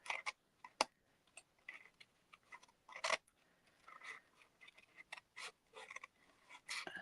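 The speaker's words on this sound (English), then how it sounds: "you need very sharp scissors to fussy cut and then move the card round rather than your scissors round." Very sharp scissors snip through card during fussy cutting, making a quick run of crisp, close snips with uneven pauses between them.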